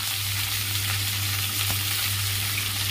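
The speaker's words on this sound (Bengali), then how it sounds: "এবার ক্যাপসিকাম দিয়ে দেবো, ক্যাপসিকামটা দিয়ে দিলাম" Capsicum fries loudly in white oil, a dense, steady, close sizzle with a faint low hum beneath and no talk.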